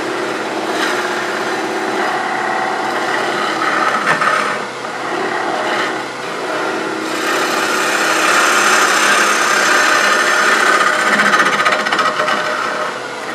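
A wood lathe spins a wooden potpourri bowl while a bottom-feeder gouge with a roughly 60 degree grind hollows the inside, giving a steady, loud whirring and scraping cut that wavers briefly and then carries on without speech.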